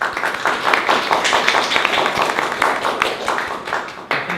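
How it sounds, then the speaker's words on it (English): A lecture-hall audience applauds a physics lecturer, with dense, even clapping that holds at a steady level for several seconds and no voices. "Round of applause."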